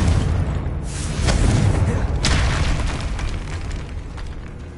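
Confringo blasting spell going off in the Hogwarts Legacy video game inside a tomb, a loud booming burst over dense rumbling game noise, with a second sharp crack partway through.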